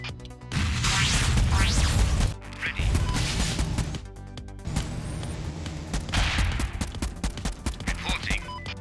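Heavy missile launcher in the Convoy video game firing repeatedly, with dense bursts of blasts, crashes and rattling impacts that build and ease through the scene, and a faint voice in the mix.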